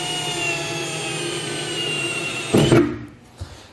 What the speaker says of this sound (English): We've got our small drill bit now, and we're gonna go ahead and just do a pilot hole